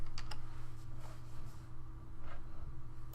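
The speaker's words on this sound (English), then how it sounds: "we can actually see what's happening while I'm typing here" Quiet typing on a computer keyboard while writing JavaScript code, light irregular key clicks close by over a faint steady hum.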